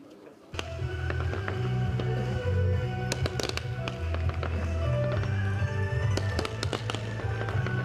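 An eight-minute fireworks display bursts over the Dubai skyline, with rapid loud bangs and crackling pops in quick irregular succession over a steady low rumble.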